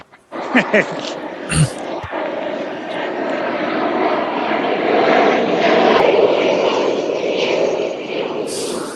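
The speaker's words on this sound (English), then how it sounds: "Airplane!" An airplane's broad engine roar swells and holds steady, growing slightly louder as it passes, with a few brief clicks and knocks near the start.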